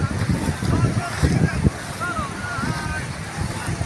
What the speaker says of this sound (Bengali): এই সমুদ্রে যাচ্ছি, এই যে ঢেউয়ের পরে ঢেউয়ের পরে ঢেউ।